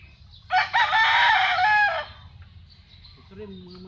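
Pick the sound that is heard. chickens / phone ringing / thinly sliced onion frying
chickens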